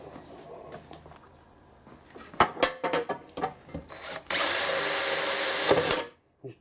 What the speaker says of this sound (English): Just chain drill the crack all the way down.